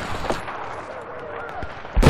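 Gunfire in Battlefield 4 on a Hainan Resort conquest map, a few scattered shots and a sharper blast at the end, fairly quiet beneath game ambience.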